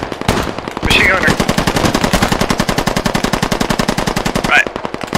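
Machine gun fire in a combat video game rattles in long rapid sustained bursts, loud and close, with brief shouted voices at the edges.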